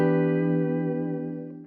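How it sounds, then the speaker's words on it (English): A single sustained electric guitar chord through a hall reverb effect rings out with a spacious, reverberant tail, slowly fading over nearly two seconds. "This one's a hall reverb."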